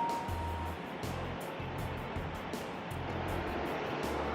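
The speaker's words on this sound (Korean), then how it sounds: "아직까지 폭포 소리가 들리죠" Steady, broad rushing water fills the whole clip, a constant roar like a waterfall heard from a short distance along a path to a temple, with a faint low rumble beneath.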